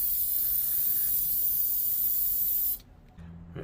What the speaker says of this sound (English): Get some silicone spray all of our holes.